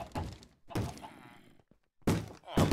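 Doors are banged on in the video game Minecraft, giving several loud, hollow thunks in separate bursts, with a pause in between and a clustered pair near the end.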